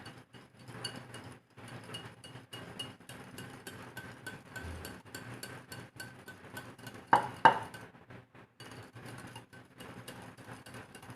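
Brownie batter is stirred in a bowl, giving a steady series of soft scraping strokes with a few louder knocks of the utensil against the bowl's side. No one speaks.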